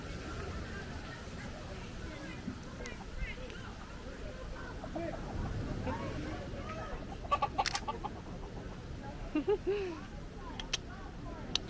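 Chickens squabble and cluck outdoors in Key West, Florida, with sharp squawks and bursts in the latter half over a steady background murmur of voices and ambient noise.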